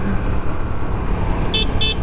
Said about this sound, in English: the horn on this is poo-poo